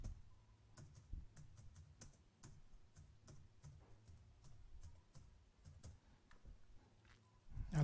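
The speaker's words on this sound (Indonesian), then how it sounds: "kemudian ketik judul subbabnya." Someone types on a computer keyboard while working in Microsoft Word, producing a quiet, irregular stream of soft key clicks with brief pauses between bursts.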